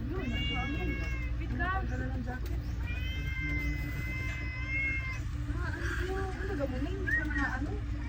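Cat meowing repeatedly in a home, the rising and falling calls close by and recurring through the clip over steady low background noise, with people talking around it.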